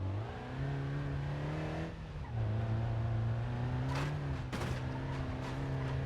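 Opel Astra engine during a test drive, steady droning hum that dips as the throttle is cut, then settles into a higher cruising tone, with brief clunks and rattles from underneath, no talk.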